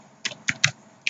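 Four crisp computer keyboard keystrokes as code is typed, close and clear with uneven gaps between the taps.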